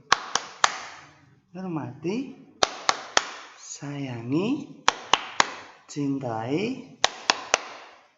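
Students playing the tepuk guru clap game in a primary classroom, clapping in quick, sharp groups of three. The clap bursts alternate with a chanted voice, repeating in a steady rhythm.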